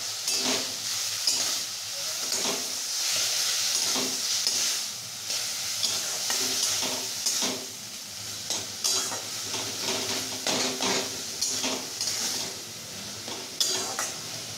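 Steamed banana stem stirred and fried with green chili and salt for a vegetarian chapor ghonto, a loud continuous sizzle broken by frequent scraping and knocking of a spoon against the pan.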